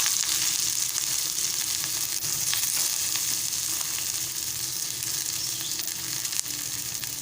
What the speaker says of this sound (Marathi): दोन चमचे तेल घालूया तेल गरम झालेलं आहे आता आपण कांदा घालूया